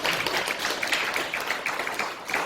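A church congregation applauds, with many hands clapping in a steady, dense patter from a moderate distance, with no voices over it.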